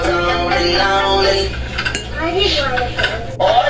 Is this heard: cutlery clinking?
yes